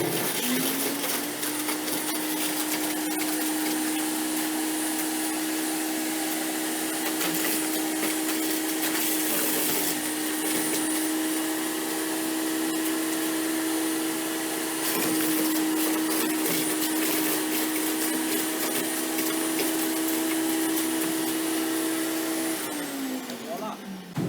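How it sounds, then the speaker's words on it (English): A shredder in a high school engineering workshop grinds plastic hangers with a steady, loud mechanical whine and hum that keeps going for over twenty seconds, then winds down at the end. "One starts the shredder."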